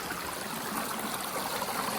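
A stream on the West Fork of the Little River in Alabama pours over a small waterfall built up with piled rocks, making a steady, close, broadband rush with no voices.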